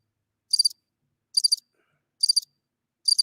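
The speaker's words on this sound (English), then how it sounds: "You just play crickets, you both." Cricket chirps played as a sound effect, four evenly spaced short trilled bursts, clear and isolated against silence.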